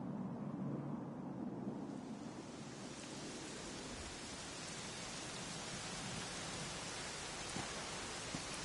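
Steady rain falling in Dragon Quest XI, a dense, even hiss that fills in and grows fuller after the first couple of seconds, continuous and fairly close with no voices.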